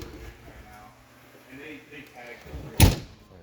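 Driver's side entry door of a 2001 Winnebago Adventurer motorhome shuts with a single loud, close slam near the end, after someone speaks briefly over faint outdoor background.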